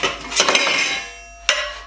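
Metal cutlery clinking against a bowl as items are gathered into a survival kit, a quick cluster of bright clatters and then one final sharp clink, close up with no speech.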